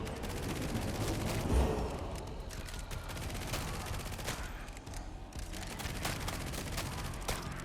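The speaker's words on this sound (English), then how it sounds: "I don't like to shoot at myself, I like to shoot at the enemies" Gunfire from shooting crowds of demon enemies in an action roguelite video game, dense rapid bursts of shots layered with game effects, continuous and loud without pause.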